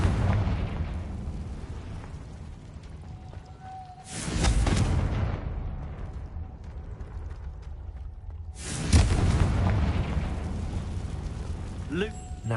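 Two loud broadband blasts from the Confringo spell in Hogwarts Legacy, each a sudden burst that rings out and trails off over a low rumbling game background, a few seconds apart.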